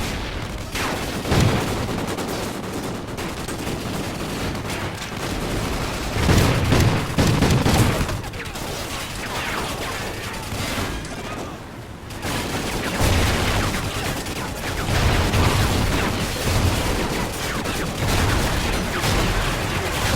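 Machine gun fire in the 2013 shooter game Call of Duty: Ghosts, with sustained, loud, dense bursts of automatic gunfire and booms filling the whole stretch alone, with no pause in the shooting.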